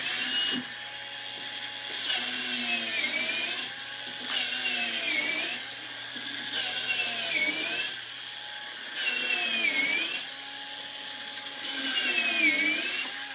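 A power drill whines in repeated bursts drilling through Lexan, about six cycles of rising and falling pitch as it bites into the material, with short pauses between.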